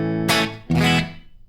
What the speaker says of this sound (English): Here's the dry guitar signal into the amplifier.